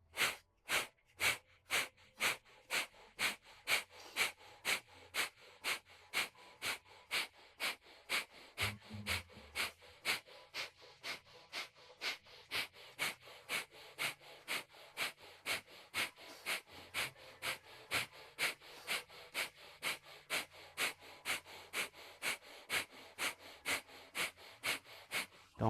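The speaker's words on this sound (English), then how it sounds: "and breath of fire" Breath of fire kriya breathing exercise: rapid, evenly spaced forceful nasal exhalations, about two per second, repeated steadily for the whole stretch at close range with no talking.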